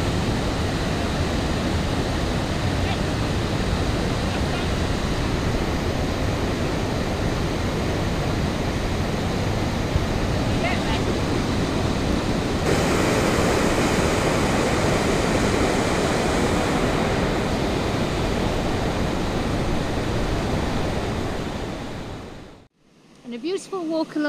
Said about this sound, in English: I can hear the river.